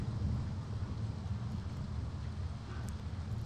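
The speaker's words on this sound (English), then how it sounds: "Yep, that's thunder." Low rolling thunder with rain in the game Five Nights at Freddy's, a dull continuous rumble under steady rainfall with no voices.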